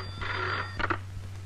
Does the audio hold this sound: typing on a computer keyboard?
no